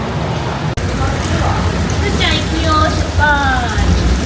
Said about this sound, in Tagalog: Kasi umuulan ngayon.